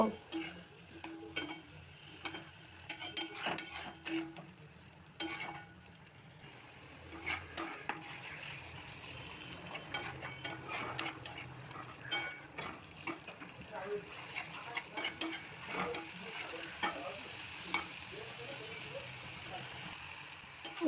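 Ghugni masala is stirred and fried in a pan, with soft sizzling under repeated scraping and clinking from a spoon. A person talks now and then over the cooking.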